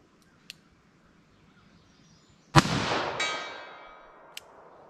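.44 Special revolver firing a 190-grain semi-wadcutter hollow point round at a distant target, one sharp outdoor shot with a long rolling echo, amid faint background noise.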